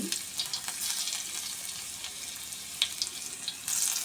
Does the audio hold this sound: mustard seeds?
yes